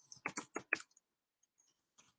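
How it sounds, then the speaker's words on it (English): Quick bursts of computer keyboard typing, a cluster of crisp clicks up front followed by a few faint scattered taps, close and quiet with no talking. "And I'm typing it as I'm talking"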